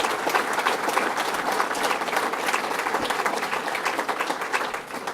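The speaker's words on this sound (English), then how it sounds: "let's give them a round of applause for that" Applause from a crowd at a governor's fishing tournament event at Owasco Lake, dense and steady clapping that carries evenly throughout and eases slightly at the close.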